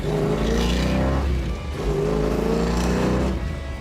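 A 1970 Plymouth Cuda with a 440 Six Pack V8 revs up loud and close, engine rising in pitch twice with a brief dip between pulls, no talk over it.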